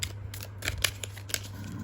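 A deck of cards is shuffled in a quiet room, making a run of soft, crisp snaps and riffling flicks over a low steady hum.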